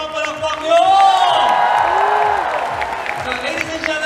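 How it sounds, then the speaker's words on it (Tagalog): Audience at a training session at PICC breaks into applause mixed with cheers and whoops, swelling loud after half a second and holding steady as a dense crowd wash, with voices shouting over the clapping. "Mahina naman mga palakpak nyo!"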